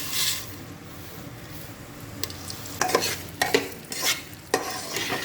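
Rice is fried in hot oil with cloves, cinnamon, bay leaf and mace for Badshahi pulao, giving a soft steady sizzle, broken by several sharp scrapes and clinks as a spoon stirs the pot, close up and with no talking.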